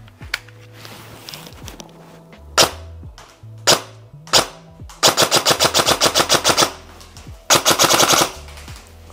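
A CZ Scorpion EVO 3 A1 airsoft replica fires loud, close shots. Single shots come first, then quick snapping strings of rapid shots separated by pauses.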